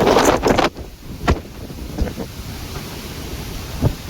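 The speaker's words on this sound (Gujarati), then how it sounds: "અત્યારે તો પવન તમે જોવો કેટલો પવન છે" Strong wind blows across an open farm field, with sustained gusting and buffeting against the microphone, a louder burst at the start and occasional thumps throughout, and no one speaking.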